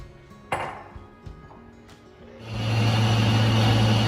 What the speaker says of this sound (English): I'm just gonna pop these in a blender